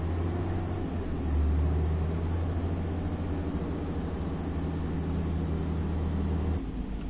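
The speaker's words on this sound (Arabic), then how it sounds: "يعني دائما فيها سيارات كبيرة هنا" Large vehicles roll past at the Bordj Menaiel entrance in Tizi Ouzou, a steady loud engine drone and road rumble that holds throughout and drops off slightly near the end.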